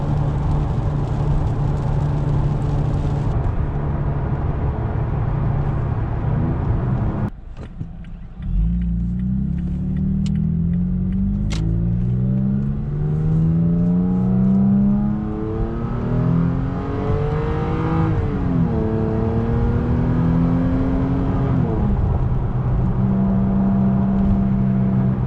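A 2017 third-generation Toyota Tacoma TRD Off-Road engine, heard from inside a cab fitted with sound-deadening mat, holds a steady drone, then after a brief dip revs up and climbs twice before settling back, loud and continuous with no talking.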